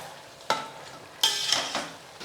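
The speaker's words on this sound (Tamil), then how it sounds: "இப்போ மட்டன் சேர்த்துட்டு அப்படியே கலந்து விட்டுடலாம்" Loud bursts of sizzling as mutton for biryani is stirred in a hot pot, with scraping and frying hiss rising and fading in a few surges.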